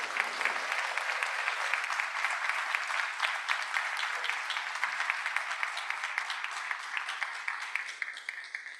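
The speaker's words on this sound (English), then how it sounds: "Can we have a round of applause for the panelists," Dense, steady applause from a forum audience for a panel of speakers, many hands clapping close together and sustained for several seconds before tapering slightly at the end.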